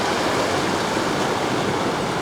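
Steady broadband rushing and splashing of water fills the whole moment as an off-road vehicle fords a shallow river in Alaska, loud and continuous with no voices.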